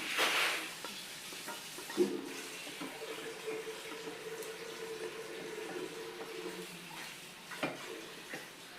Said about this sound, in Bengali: আমি একটুখানি আর একটু জল দেব।